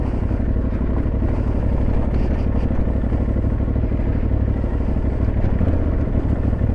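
An Aprilia Tuareg 660 motorcycle rides off road, its engine a steady, continuous drone with rumbling low end and faint clatter from the rough track, constant in level throughout with no talking.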